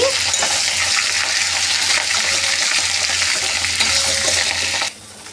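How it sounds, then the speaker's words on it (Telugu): Drumstick leaves deep frying in hot oil with mustard seeds, a loud close steady crackling sizzle with stirring that keeps up without a break, then drops off sharply near the end. "ఈ మునిగాకు వేయడమే ఈ ఆయిల్ కొంచెం డీప్ ఫ్రై ఇలా వేయించుకోవాలి"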